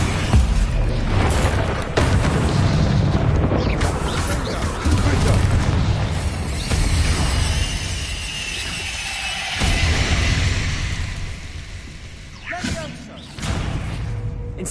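An Incendio fire spell erupts in the Hogwarts video game, a dense, roaring rush of flame and thuds that blends with other spell blasts and game noise while a voice calls out over it.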